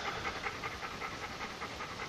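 A dog panting quickly and steadily at close range, a rhythmic series of breathy huffs with no other sound.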